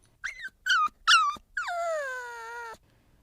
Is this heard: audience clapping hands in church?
no